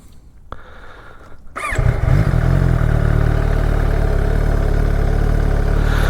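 An MV Agusta 1090 Corsa motorcycle, a low-mileage bike, rides along with its engine note swelling after a brief quieter start into a loud, steady, throbbing drone that dominates for the rest of the stretch.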